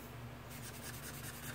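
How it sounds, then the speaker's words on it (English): A pen or marker colors in a bar graph by hand, a faint steady scratchy rubbing that continues for under two seconds in a quiet room. "Then I'm going to color this one blue for American, or green for American."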